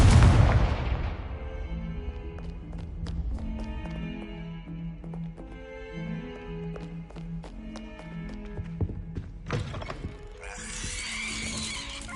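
A Confringo spell blast in Hogwarts Legacy opens with a loud booming burst that decays into a ringing, chiming magical tail with scattered taps and a later rushing swell.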